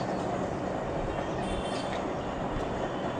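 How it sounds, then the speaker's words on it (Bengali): A metro train on the line to Noapara rolls past with a steady, broad rumble and rail noise that holds even and fairly close throughout, with no voices. "ওটা মেট্রো রেল যাচ্ছে, ওটা নোয়াপাড়া চলে যাচ্ছে।"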